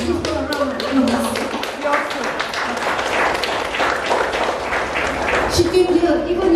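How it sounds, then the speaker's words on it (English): Audience applause at a gallery exhibition opening, a sustained round of dense clapping from a room of people, fairly close and steady, with some voices mixed in. "Please give her a round of applause."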